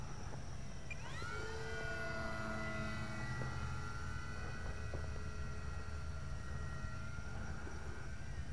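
An FMS Maule RC float plane flies past at a distance, giving a thin, steady electric motor whine with a pitch that shifts as it passes. Faint outdoor background sits underneath, and no one speaks.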